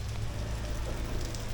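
Heavy rain pours steadily in Cainta, Rizal, Philippines, a dense constant wash of drops with a low rumbling undertone and no pauses.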